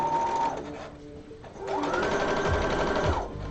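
A sewing machine runs at a long stitch length, its motor whirring steadily and close, rising and falling in pitch as it speeds up, slows and speeds up again.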